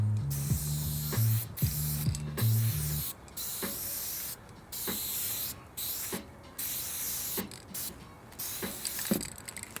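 A spray paint can with a high-output OG cap hisses in repeated bursts of a few seconds each, separated by short pauses, with a low hum early on.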